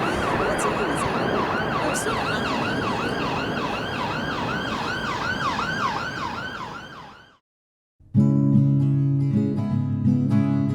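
An ambulance siren wails loudly and close by in a steady repeating yelp-like sweep, fading away after about seven seconds before a sudden cut into music.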